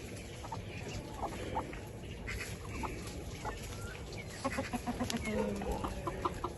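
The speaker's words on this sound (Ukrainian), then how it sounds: "Це така в мене прогулка вечірня курей" Chickens cluck in short, scattered bursts close by during an evening walk, several birds calling over a busy outdoor background.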